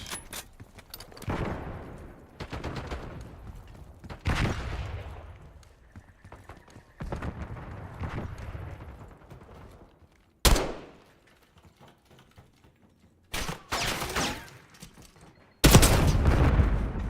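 Gunfire in a video game, heard as repeated bursts of shots with loud cracks and echoing tails, separated by short quiet gaps across the stretch.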